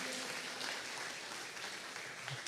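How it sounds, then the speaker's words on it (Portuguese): Church congregation giving a round of applause during a service, a continuous, even wash of clapping from many hands lasting the whole stretch, moderately distant. "vamos dar uma salva de palmas para o Senhor"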